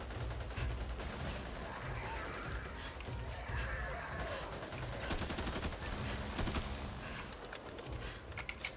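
Rapid, continuous minigun fire in the video game Back 4 Blood, a dense loud rattle of shots running unbroken through the whole stretch alongside other game noise, with faint voices underneath.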